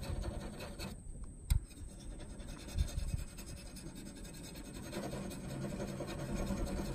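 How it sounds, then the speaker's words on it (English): A knife being ground on a rough spot of a whetstone, producing close rasping and scraping strokes with a short pause and a knock partway through, and no talk. "I might do a little more of my grinding style sharpening"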